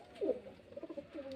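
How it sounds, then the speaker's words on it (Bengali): A pair of young pigeons at a pigeon-selling home in Beldanga coos softly, one fuller coo followed by a quick run of short, close, faint pulses. "এই যে এক পেয়ার বাচ্চা পায়রা"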